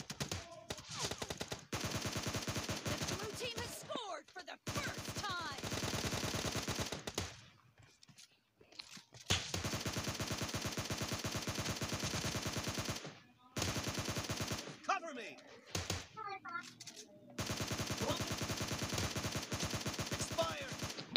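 PUBG Lite team deathmatch in a warehouse map brings long bursts of rapid automatic gunfire, loud and dense, broken by short pauses and scattered single shots, with no talking over it.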